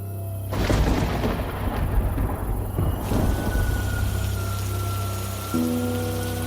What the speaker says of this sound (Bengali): এই যা, এটা আবারও বৃষ্টি নামলো